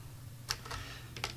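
Electrical wire is snipped with cutters while wiring a PLC terminal block, two quiet, sharp clicks about three quarters of a second apart over a low background hum.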